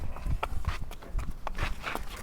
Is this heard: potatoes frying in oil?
no